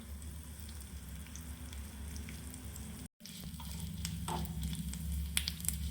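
Coriander seeds, cumin, fenugreek, asafoetida and dry chilli fry in oil, giving a faint, steady sizzle with a soft crackle and a brief gap partway through.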